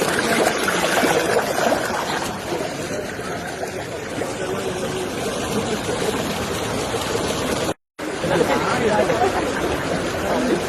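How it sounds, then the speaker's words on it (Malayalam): A waterfall in Munnar, amid tea and cardamom plantations, gives a steady, full-bodied rush of falling water that carries through the whole scene, broken only by a brief cut, with people's voices mixing into the roar. "വെള്ളച്ചാട്ടം."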